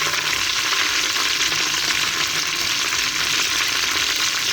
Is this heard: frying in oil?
yes